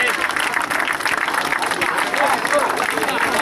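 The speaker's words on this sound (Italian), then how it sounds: "Glielo facciamo un applauso?" A crowd at an Amiternina party applauds steadily, a lively, sustained patter of clapping with voices and chatter mixed underneath.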